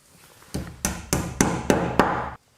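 A wall plug is hammered into a brick wall while an air-conditioner indoor unit is being mounted: six sharp, evenly spaced knocks, each ringing briefly, close and loud, then sudden quiet.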